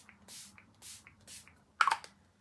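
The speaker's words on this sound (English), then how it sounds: "Oh, my new setting spray. Let's use this." Formula Z Unisexy setting spray misted in three soft, evenly spaced bursts from a fine sprayer, then a brief louder rustle of handling close by, with no talking.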